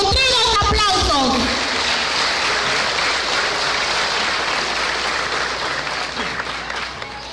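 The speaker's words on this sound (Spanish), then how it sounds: "a quien vamos a recibir con fuertes y nutridos aplausos" Loud, sustained audience applause at a primary school graduation ceremony in San Juan Colorado, with a short stretch of speech at the start before the thick clapping fills the rest.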